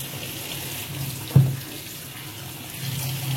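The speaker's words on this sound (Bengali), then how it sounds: "এগুলোকে সব পরিষ্কার করে এখন ধুয়ে নেওয়া হবে" Tap water runs steadily while ripe red tomatoes are washed in a kitchen, a soft continuous rush with one brief splash or knock partway through.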